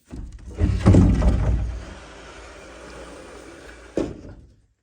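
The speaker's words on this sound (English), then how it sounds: "Alright, now the door is opened." A room door opening during a house tour, with a loud cluster of knocks, creaks and rattles near the start, a quieter stretch, then one sharp thud before silence; no speech.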